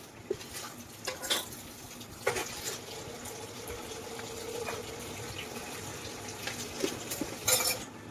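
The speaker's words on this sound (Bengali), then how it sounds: "2 কাপ মতো জল দিয়ে দিলাম।" Roughly two cups of water poured into a pot of sugar to make rasgulla syrup, with a faint, steady splash and trickle punctuated by a few metallic clinks of the pot and utensils.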